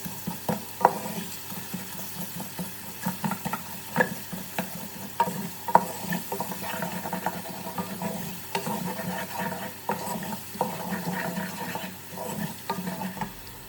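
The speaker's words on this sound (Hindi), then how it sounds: "दालों को हम 5 से 10 मिनट तक अच्छी तरह से भूनेंगे, चमचा चलाते रहेंगे" Lentils and spices roast in a pan while a spoon stirs them, producing a steady dry sizzle broken by frequent clinks and scrapes of the spoon against the pan, close by with no voices.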